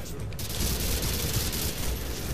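Dense machine gun fire in the video game Call of Duty: Modern Warfare 2, a loud continuous rattle of rapid shots filling the short burst.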